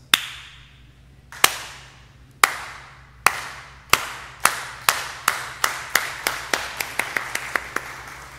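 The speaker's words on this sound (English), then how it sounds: "even people that don't have rhythm get into the slow clap" A group does a slow clap, sharp unison claps starting widely spaced and steadily speeding up into a quick accelerating run, loud and clear with no talking.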